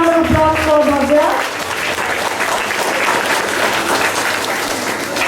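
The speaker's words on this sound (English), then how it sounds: "All of you, big round of applause for Bhavya" At a school assembly, students and staff give a student a round of applause, broad sustained clapping that rises after a brief spoken moment at the start and carries on evenly to the end.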